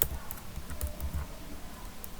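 Keys tapped on a computer keyboard in a steady, fairly quiet patter of light clicks, close by with no voices.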